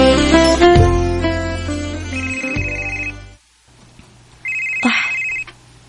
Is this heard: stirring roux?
no